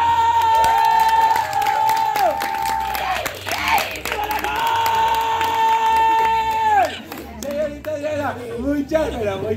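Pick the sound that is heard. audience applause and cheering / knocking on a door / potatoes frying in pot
audience applause and cheering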